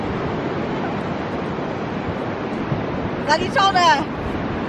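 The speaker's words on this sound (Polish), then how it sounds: "Strasznie wieje." Strong wind buffets the microphone on the Irish coast while ocean waves roll and wash in a constant, loud roar; a short spoken exclamation cuts through near the end.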